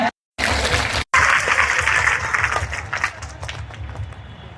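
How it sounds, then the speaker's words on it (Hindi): A crowd claps loudly and steadily, dense applause that swells after two brief silent gaps and then gradually thins out. "एक बार जोरदार तालियां बजाएं।"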